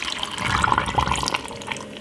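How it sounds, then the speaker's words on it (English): Water pours into a blender of green smoothie ingredients and ice, a steady close splashing stream that runs for about two seconds. "Then some water."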